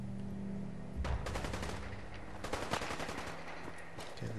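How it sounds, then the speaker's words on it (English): Gunfire in the video game Fallout 4: bursts of rapid automatic shots and scattered single cracks at moderate distance, dense and continuous, with no one talking. "They're shooting at something."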